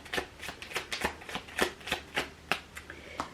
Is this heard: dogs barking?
no